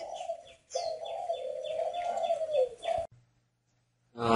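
A spotted dove at a bird garden in the Ba Vì mountains, northern Vietnam, coos in a close, steady low call with soft rhythmic pulses, then stops abruptly into near silence before another sound begins.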